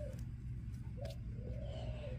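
Spotted dove cooing, a caged bird being trained, giving soft low coos over a steady low background hum.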